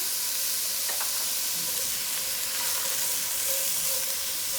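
Mushrooms sizzle in a hot pan after a pinch of salt goes in, a steady close frying hiss with faint crackles and occasional stirring, no voices.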